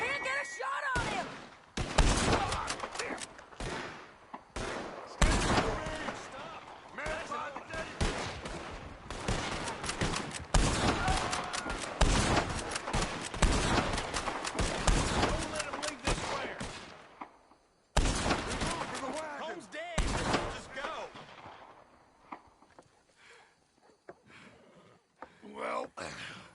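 Rapid bursts of gunfire crack repeatedly in a Red Dead Redemption 2 shootout, loud and dense volleys with short gaps, while voices shout over the fighting.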